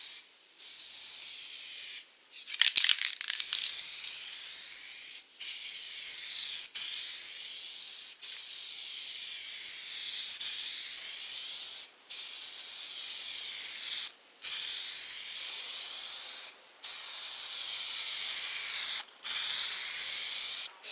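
Clear coat sprayed from an aerosol spray can onto a car's peeling finish: a steady, loud hiss in long passes separated by short gaps, with one brief rattling burst near the start, no voices.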